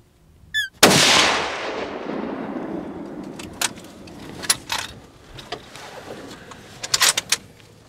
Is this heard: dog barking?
no